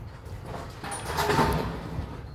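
A locked door at a house awaiting gut renovation is tried, with a muffled push and rattle that swells in the middle of the clip and fades, heard up close with no talk.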